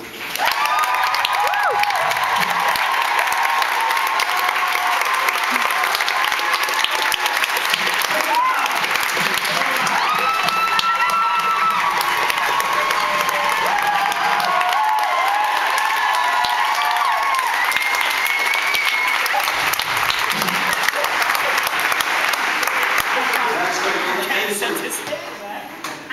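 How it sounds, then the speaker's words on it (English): A large audience claps and cheers for the red team in a sustained, loud burst of applause lasting most of the time, with scattered shouts rising from the crowd before it tapers off at the end. "give them a big round of applause"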